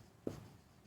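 A pen or marker makes one short, soft stroke while someone writes out a note during a classroom lesson. The clip is otherwise quiet, with a faint room hiss.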